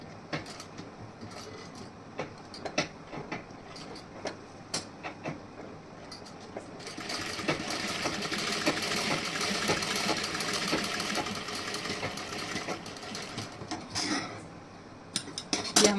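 A sewing machine stitching the top side of a blouse, scattered clicks and handling noises giving way to a steady mid-level whirring run of several seconds before tapering off, close and without talk.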